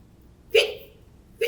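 Two sharp hiccups from a puppet show ghost, a loud vocal catch followed by a second one nearly a second later, close and dry.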